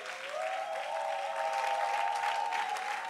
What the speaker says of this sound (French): Bénis le Seigneur à travers tes acclamations.